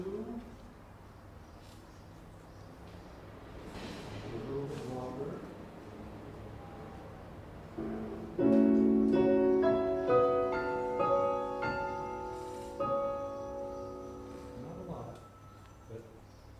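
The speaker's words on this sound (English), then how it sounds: "Blue Rock Thrush 2." Clear, melodic blue rock thrush song with fluting, whistled phrases, heard after a stretch of quiet background and a brief spoken comment.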